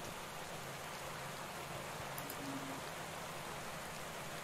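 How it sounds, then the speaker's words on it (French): Steady rain falls during a stage of the Pro Cycling Manager cycling game, a constant dense hiss of drops on surfaces at moderate level, with no speech over it. "beaucoup de pluie pour cette étape"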